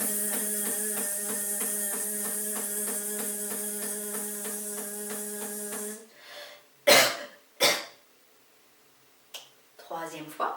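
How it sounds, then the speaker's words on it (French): Deliberate coughs closing a Qi Gong exercise: two sharp, loud coughs follow a sustained, pulsing musical tone that stops abruptly, then fainter breathy coughing sounds near the end. "Si vous le souhaitez, vous pouvez tousser à la fin pour sortir l'énergie usée."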